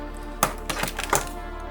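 Clicky Sega Master System controller buttons pressed a few times, with crisp close plastic clicks spaced irregularly in a quiet room and no talk.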